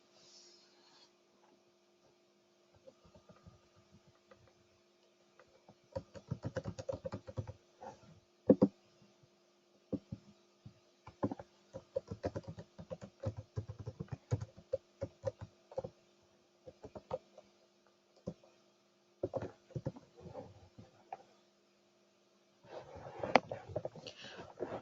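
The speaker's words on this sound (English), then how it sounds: "So just bear with me as I enter in this username." Username being typed on a computer keyboard, scattered bursts of soft key clicks in irregular runs over a faint steady electrical hum, quiet and close, with no speech.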